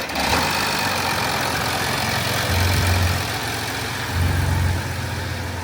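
A 3.0 TDI diesel in an Audi A6 idles steadily with a close, constant rumble, and a low tone swells twice in repeating pulses like a distant phone ringing; no voices.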